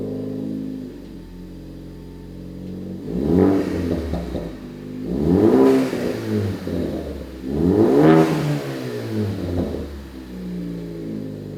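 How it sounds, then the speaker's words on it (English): Ford Focus ST fitted with a Corsa 3-inch stainless steel Xtreme cat-back exhaust, idling with a deep burble and then revved three times in rising and falling sweeps, loud and close with no voices. "Now let's hear how it sounds."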